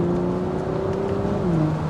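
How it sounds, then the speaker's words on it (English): A 2022 Audi S5 Cabriolet's engine and exhaust rev loudly and up close, holding a steady droning note before the pitch drops briefly near the end, with no talking. "you got a nice exhaust note"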